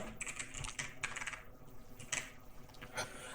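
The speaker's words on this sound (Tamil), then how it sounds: "ஸோ நேம் டைப் பண்ணுறேன்." Keys clatter steadily on a computer keyboard as text is entered into an online voter ID transfer form, a quiet, close run of rapid irregular clicks with no talking.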